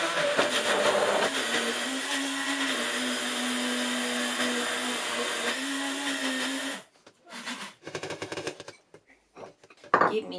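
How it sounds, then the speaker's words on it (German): A blender purees kiwis with a loud, steady whirring drone for about seven seconds, then cuts out, followed by a few brief clatters and handling noises. "Nun pürieren wir den ersten Teil der Kiwis."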